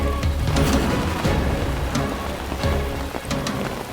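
Heavy rain pours down steadily and loudly, a dense wash of drops drumming on surfaces with a few sharper splashes and knocks, no voices over it.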